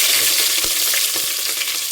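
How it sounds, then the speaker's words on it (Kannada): Chopped onions and green chillies crackle and sizzle steadily in hot oil for a pulao, a dense close frying hiss with a few sharper pops and stirring scrapes, no voices. "ಎಣ್ಣೆ ಕಾದ್ಮೇಲೆ ಈರುಳ್ಳಿ ಮತ್ತು ಹಸಿಮೆಣಸಿನ್ಕಾಯಿ ಹಾಕ್ಕೊಂಡಿದ್ದೀನಿ"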